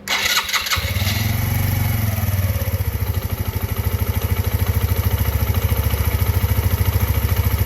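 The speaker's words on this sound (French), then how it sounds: "la moto démarre sans problème" A motorcycle engine cranks on a replaced starter and fires, revs briefly, then settles into a steady, throbbing idle close by.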